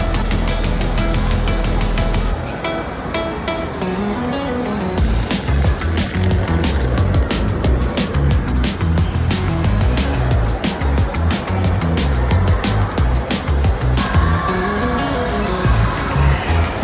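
A whirlpool train ride at Lulu Mall in Lucknow rolls along with a loud, steady rumble and a rapid run of regular rattling clicks, continuous and close throughout.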